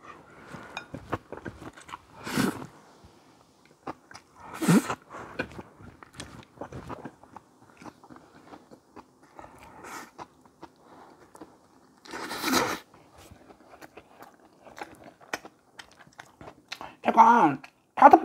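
Cucumber kimchi (oi-sobagi) and other vegetables being bitten and chewed up close during a mukbang meal of Ottogi instant jjajang noodles and a fried egg, a handful of separate crunchy bites spaced seconds apart over quiet mouth sounds.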